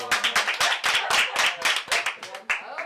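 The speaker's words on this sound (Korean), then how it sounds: "박수!" Individual rhythmic hand clapping in a small one-day vegan lip balm making class, a series of sharp, close claps with short gaps, with talk mixed in among them.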